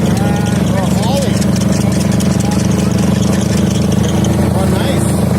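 A V8 engine drives a wood chipper at a loud, steady idle-like rumble throughout, with people talking over it nearby.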